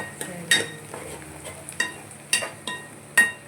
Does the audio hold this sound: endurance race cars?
no